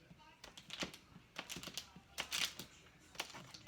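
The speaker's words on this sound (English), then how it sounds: "here's a 1/2 cup of butter, 1 stick, and I'm going to cut it into little pieces" Stick of butter, half a cup, being cut into small pieces with a knife for banana bread, giving a run of quick, light tapping chops on a board at close range, irregular in rhythm.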